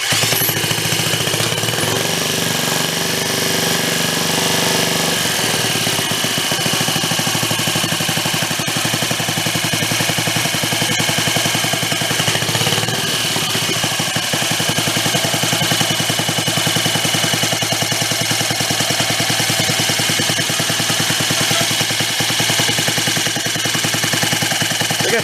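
A small gas engine on a donated, broken reel mower runs steadily and loudly throughout, a rough, buzzing drone with slight shifts as the throttle and air-fuel mix are adjusted, no voices.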